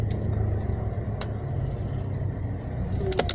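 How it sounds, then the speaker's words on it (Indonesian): A truck passes close by with a steady low engine rumble and a few faint clicks and knocks on top. "sebentar, ada truk dulu"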